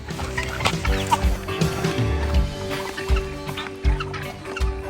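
A group of ducks quack and chatter loudly and close up in short, overlapping calls, with no talking.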